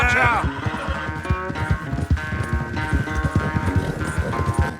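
A horse gallops in a race in Red Dead Redemption II, rapid rhythmic hoofbeats pounding close and loud throughout, with game music and voices mixed underneath.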